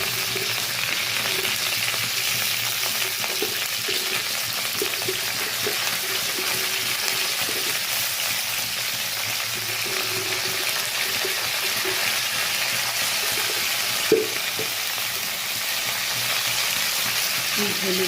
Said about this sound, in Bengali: হলুদ দিয়ে দিয়ে কপিটা একটু ভাজাভাজি করে নিই।